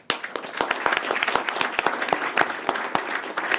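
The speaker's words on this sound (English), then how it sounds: "And I want to give you guys a round of applause." Applause at a city council session for police officers and their families, a roomful of people clapping with distinct sharp claps standing out over a steady patter, close and moderately loud.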